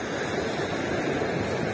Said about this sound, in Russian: Ну, сегодня хоть не такая волна, как вчера.